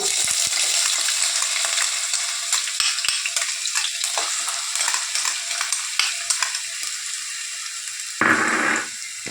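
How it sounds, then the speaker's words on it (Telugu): Onions hiss and crackle in hot oil in a kadai while pani puri is being made, a loud, close, continuous sizzle with brief stirring scrapes and a sharper surge near the end. "ఆయిల్ వేడైన తర్వాత మనం దీంట్లో ఫస్ట్ ఆనియన్స్ వేసుకోవాలి"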